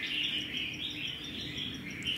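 A red-whiskered bulbul from Laos sings steadily, its bright, high, warbling phrases continuing close and clear over a faint background hiss, with no talking.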